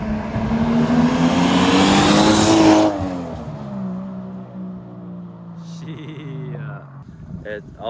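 A Nissan Skyline R33 under a build with exhaust leaks revs hard and loud up close, then the engine note falls and settles to a lower drone while a voice talks over it.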